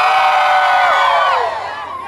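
A large crowd at a rodeo show in Texcoco shouting loudly together in one sustained roar that fades slightly toward the end.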